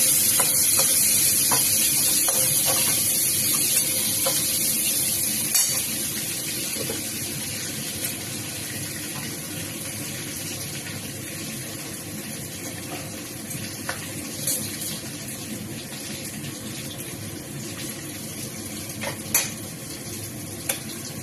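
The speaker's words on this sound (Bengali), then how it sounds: "একটু 5 ফোড়ন আর একটা শুকনো লঙ্কা দিয়ে দিলাম তেলে।" Five-spice seeds and a dried red chilli crackle and sizzle in hot oil in a pan, loud at first and settling into a steady fry, with scattered clinks of a utensil against the pan and no talking.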